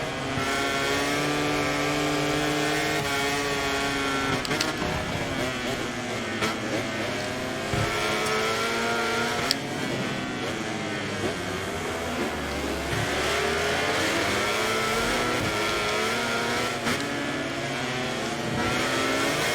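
A Honda racing motorcycle in the MotoGP 24 video game, its engine screaming steadily at high revs, pitch rising and falling through gear changes, loud and continuous throughout.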